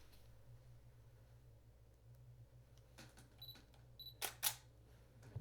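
A Canon 5D Mark III's shutter fires in a few crisp, close mechanical clicks, the last two loudest, against a quiet room hum.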